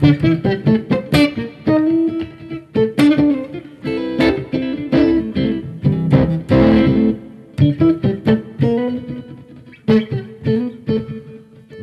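Electric guitar on the neck pickup plays a lively run of plucked notes and chords with a warm, rounded tone and slight grit, alone with no voices.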